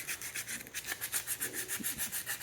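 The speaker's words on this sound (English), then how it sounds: "This particular piece of cedar is working pretty nice with the sandpaper" Sandpaper rubs rhythmically over a cedar war club, smoothing the wood and clearing burrs; steady back-and-forth strokes sound close and continuous with no talking.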